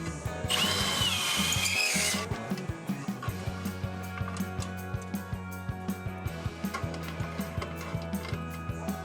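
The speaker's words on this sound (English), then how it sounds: "we're gonna go ahead and ream those out to the correct size" Power drill reaming bolt holes out to size on a Ford F1 truck with an LS swap, a loud continuous whir for about two seconds, then steady ticking and rhythmic mechanical clatter from the running engine.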